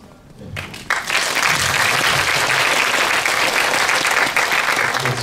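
A theater audience at a Busan International Film Festival screening Q&A breaks into applause that starts sharply after a brief pause and then holds as dense, full clapping that fills the hall.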